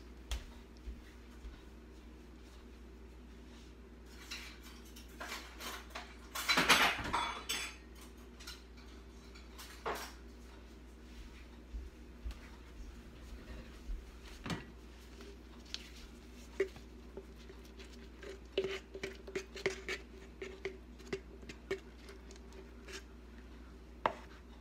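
A spoon scrapes mayonnaise out of a jar for a turkey salad made from Thanksgiving leftovers: sparse, soft clinks and scrapes, with one louder burst of scraping early on, then faint ticks in a quiet room with no talking.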